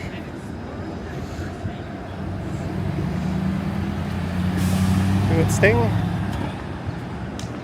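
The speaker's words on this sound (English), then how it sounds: "like this Canada Post truck" A Canada Post delivery truck rumbles past on a busy Toronto street along Spadina, a steady low engine drone with a brief air-brake hiss, heard under close conversation.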